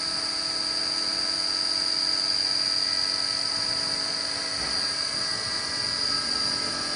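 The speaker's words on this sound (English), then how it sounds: "Chip auger working nicely." The chip auger on a Haas VF0 CNC milling machine runs with a steady, close mechanical whine and drone, holding an even level throughout with no talking.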